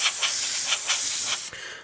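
An airbrush sprays paint over a 1/32 scale Wingnut Wings RE.8 model aircraft, a steady close airy hiss pulsing in short regular strokes before cutting off near the end.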